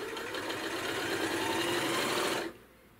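A sewing machine runs steadily at speed with the needle set to stay down, a continuous mechanical whir that holds for about two and a half seconds, then stops abruptly, leaving quiet room tone.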